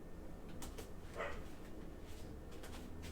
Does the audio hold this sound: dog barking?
yes